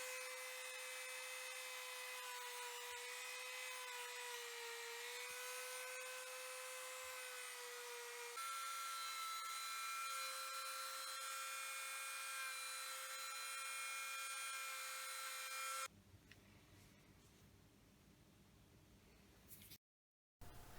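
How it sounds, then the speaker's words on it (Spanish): Dremel rotary tool smoothing the cut edges of a metal throttle plate from a Chrysler LeBaron, a high steady whine that shifts pitch slightly as it bears on the metal, then cuts off into quieter handling noise. "con la Dremel vamos a repasar un poquito las aristas que hemos dejado"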